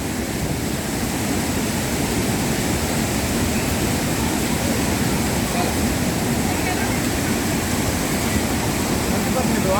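Kapila Theertham waterfall at Tirumala, swollen by a downpour, gives a loud, unbroken roar of rushing water that holds a steady wash of noise throughout.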